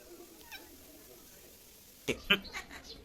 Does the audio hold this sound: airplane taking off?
no